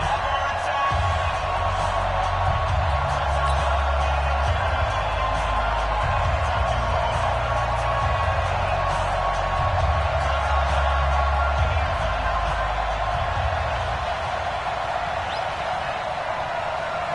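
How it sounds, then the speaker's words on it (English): Stadium crowd roaring steadily at a Redskins vs 49ers football video game, a dense continuous wash of cheering that stays loud and unbroken throughout. "this crowd is pumped up as their Redskins get set to match up with the San Francisco"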